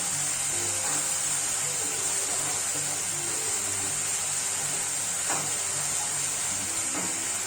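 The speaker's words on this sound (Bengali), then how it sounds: "এটাকে এবার একটু কষিয়ে নেবো যাতে আদার গন্ধটা চলে যায়" Ginger and green chili paste being sautéed in a pan, a dense continuous sizzling hiss held steady throughout at close range, with faint occasional clinks.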